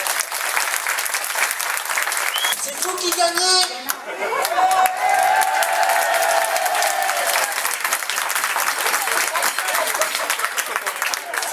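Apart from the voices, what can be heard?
audience applause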